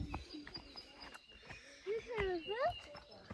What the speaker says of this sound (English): Bird song is going off.